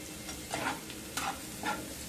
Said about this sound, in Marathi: मिरच्या आणि कांदा चांगलं परतून घ्यायचं आहे